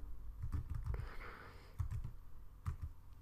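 Computer keyboard keys tapped in short bursts to type an extension name, a few quick clusters of clicks separated by brief pauses, close and fairly quiet with no talk.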